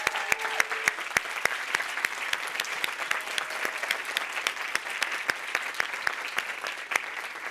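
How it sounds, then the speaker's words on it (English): Audience applause for finalist teams at a plenary session, a steady patter of many hands clapping with a few sharper individual claps standing out, moderately loud and sustained without talk. "another round of applause for our 2022 Solver teams and Indigenous Communities Fellows"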